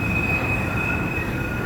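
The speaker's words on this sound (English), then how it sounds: "There's the train. There's a train" A train rolls along the railroad tracks at Dealey Plaza in Dallas, its steady loud rumble carrying a sustained high wheel squeal throughout.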